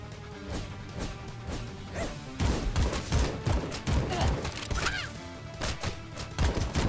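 Rapid bursts of gunfire from a gun in the action roguelike game AK-XOLOTL, loud and close, repeating in quick volleys over game music.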